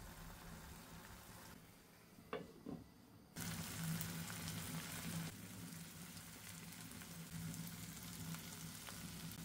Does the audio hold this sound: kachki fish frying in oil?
yes